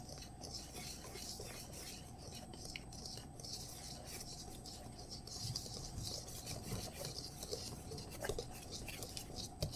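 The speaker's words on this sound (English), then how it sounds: "we're just going to whisk all that up together" Buckwheat pancake batter with soy milk being whisked in a bowl, a steady soft scraping and swishing rub that continues without a break, close and fairly quiet.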